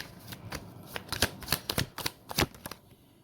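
Tarot cards are shuffled and drawn up close, a quick series of crisp riffling slaps and flicks in an uneven rhythm, fairly quiet with no talk over them.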